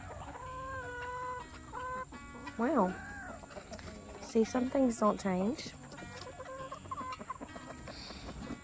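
Hens and roosters cluck and squawk in bursts close by in a garden, with a rooster-like call mixed in, while a person speaks briefly between the calls.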